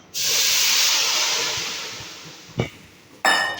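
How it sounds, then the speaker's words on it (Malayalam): Water is poured into a pot for prawn biryani, giving a loud, steady hissing rush of about two and a half seconds. It fades gradually and is followed by a brief splash and then a second burst. "അപ്പം വെള്ളം ഒഴിച്ചു കൊടുക്കാം."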